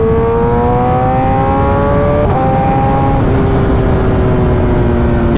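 A 2019 Kawasaki ZX10RR superbike accelerates hard, its engine note climbing steadily and dropping in pitch at each quick-shifter upshift, with two crisp gear changes in a loud, continuous run.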